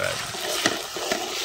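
Garlic ginger paste and masala fry in a pan at an evening egg party among friends. A loud, continuous sizzle crackles throughout, with a couple of sharper scraping stirs standing out.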